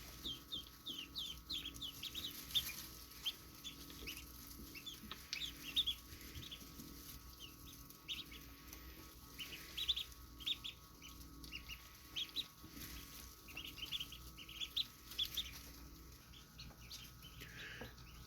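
Baby chicks hatched in a new incubator peep continuously in high, rapid chirps, several birds overlapping, faint and close with a low steady hum underneath.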